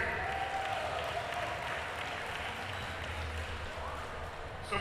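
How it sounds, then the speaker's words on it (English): A crowd at a school basketball championship game in the Bahamas applauds steadily, a broad, continuous wash of clapping and crowd noise filling the gym throughout. "Give yourselves a round of applause"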